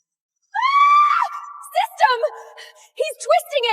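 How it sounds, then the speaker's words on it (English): A woman screams in one long rising, strained cry, followed by broken sobbing yelps and gasping cries, close and loud against silence. "I screamed into the dark behind my eyes."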